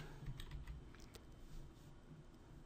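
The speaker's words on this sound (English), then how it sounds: "I need to type /n ST10" Soft keystrokes on a computer keyboard as a short command is typed, a quick irregular run of taps, faint and close with steady background hiss.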